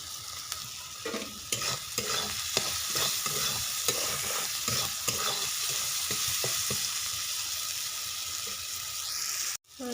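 Spice paste sautéing in a pan while being stirred continuously: a strong, even sizzle layered with rhythmic scraping strokes, ending in a sudden clatter and cutoff.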